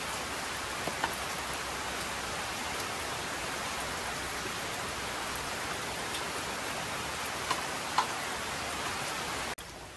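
Rain falls steadily in a soft, even hiss, with occasional louder drips standing out and no voices.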